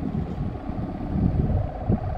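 A kite hummer of the kebo ngorok type drones high overhead in the wind, a steady low rumble buffeted by wind gusts on the microphone, with no one talking.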